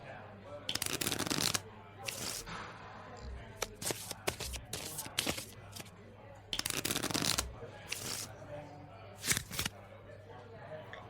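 Tarot cards being shuffled and drawn in repeated bursts of riffling and sliding, close and fairly loud, separated by short pauses and softer handling sounds, with a low steady hum underneath.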